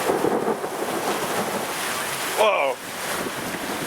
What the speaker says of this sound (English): Here's the hail. It's coming.